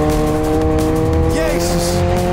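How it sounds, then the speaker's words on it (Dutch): A car brakes hard with a short tire squeal over a steady engine hum, the screech coming midway and briefly standing out, with people talking inside. "We hoeven niet te remmen als je gewoon rustig rijdt."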